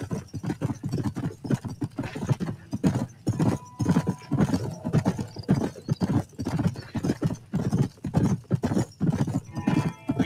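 Horse hooves gallop in the video game Red Dead Redemption, a steady rapid clip-clop throughout at moderate volume, with occasional faint snorts over a low background.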